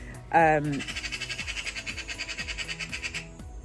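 A bird gives a sharp rising squawk, then a rapid rhythmic series of harsh chattering calls continues for several seconds, fairly close and moderately loud.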